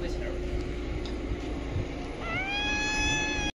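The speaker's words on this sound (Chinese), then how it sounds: "小猫咪" A kitten gives a single drawn-out, rising meow, close and clear, over a steady background hum and faint voices indoors.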